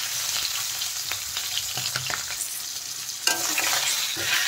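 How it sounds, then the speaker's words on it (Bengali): A catla fish head fries in hot mustard oil, loud continuous sizzling and spitting with scraping stir sounds and a sharp clatter near the end, no talking. "এখন মাছের মাথাটা আমি ভেজে নেব"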